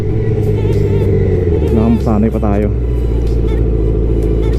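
Recently repaired Yamaha R1 sport motorcycle, lowered and still needing tuning and break-in, holding a steady, loud, low engine drone at high RPM up close while someone talks over it.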